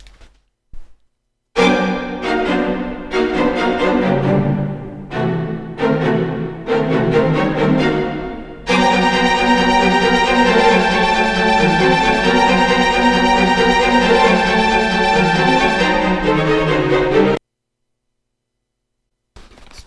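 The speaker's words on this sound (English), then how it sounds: "So what you're hearing there is Mozart's Eine kleine Nachtmusik," Mozart's Eine kleine Nachtmusik, first movement Allegro, played from its opening bars: crisp, punchy unison string strokes with pauses give way to a sustained, bright, full ensemble passage that cuts off abruptly before near silence.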